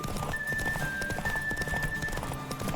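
A horse's hooves clip-clop in a quick steady gallop in The Witcher 3, at moderate volume, with a thin tonal whine running over part of it.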